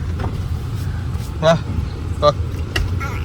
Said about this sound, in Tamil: இங்க வருது வண்டி இங்க வருது